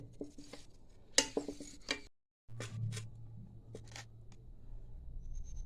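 A spoon clinks and scrapes in a bowl while stirring an amla (Indian gooseberry) preparation, with a quick run of close, light taps, a short pause, then softer scraping over a low hum.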